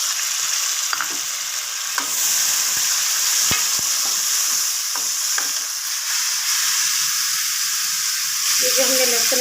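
Chopped tomatoes sizzle and fry in a pan with browned onions for aloo gobi, a steady broadband hiss broken by scattered stirring clicks and scrapes, with a short clatter near the end.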